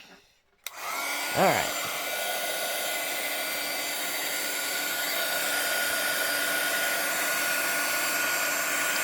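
A heat tool blows hot air to melt embossing powder on a stamped paper background, starting with a click and rising whine, then a loud, steady fan roar that continues close by; a voice speaks briefly before it starts.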